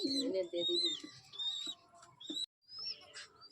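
Pet pigeons, including fantail and other fancy breeds, in a home loft with young birds: low throaty cooing up front mixed with higher chirps and calls from other birds nearby, fairly quiet and close.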